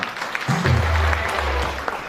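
A crowd at a Safe Shop business gathering breaks into applause, a dense wash of clapping that rises after a brief pause and holds steadily for under two seconds.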